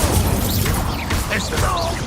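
A Confringo fire spell bursts in Hogwarts Legacy combat, giving dense crackling impacts and blasts amid a continuous noisy battle mix with game music.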